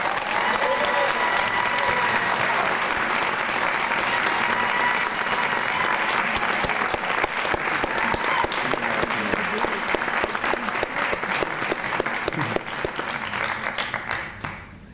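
Audience at a faculty and staff recognition ceremony applauding award recipients, sustained dense clapping from a large crowd, steady and loud throughout before tapering off at the end.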